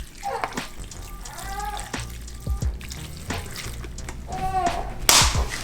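Chopped vegetables and white vinegar squelch and splash as they are mixed by hand for curtido, wet irregular slaps and sloshes nearby, with a voice briefly talking.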